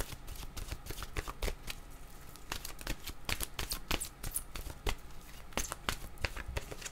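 A deck of oracle cards is shuffled by hand in a run of quick, crisp riffling bursts and flicks, close and fairly loud, with no talking.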